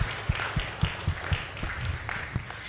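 A church congregation applauds, a fairly close, steady round of clapping with sharp, evenly spaced claps over a softer wash of hands.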